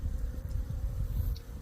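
Honeybees buzz around beehives in a soft, steady hum, faint and close with no talking.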